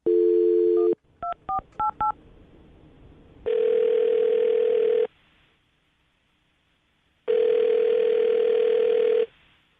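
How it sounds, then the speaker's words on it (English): Radio show call dialed on a telephone: a short dial tone, then a quick series of DTMF keypad beeps, followed by two long ringback tones separated by silence, loud and clear with no talk. "I'm going to dial the phone number right now, get her on the phone"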